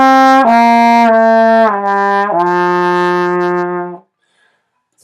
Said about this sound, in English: Slur means you just simply connect the notes without retonguing the note at all.